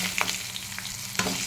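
Rice mixture with a pinch of turmeric frying in a pan, a steady close sizzle with a few quick utensil clicks and scrapes.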